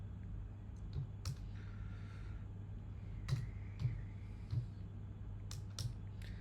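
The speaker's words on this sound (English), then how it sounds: "I'm typing very fast." Fast typing on a computer keyboard, quick irregular key clicks in short bursts with a few louder taps, close and alone over a steady low hum.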